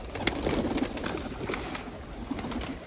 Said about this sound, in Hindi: ये देखिए काफ़ी भूखे हैं हमारे कबूतर